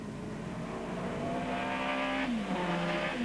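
Race cars from the 1996 TVR Tuscan Challenge roar together in a close pack, a loud, steady engine note that holds high, then drops briefly as a driver lifts off and comes back on the throttle.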